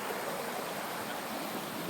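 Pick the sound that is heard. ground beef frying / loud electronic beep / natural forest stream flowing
natural forest stream flowing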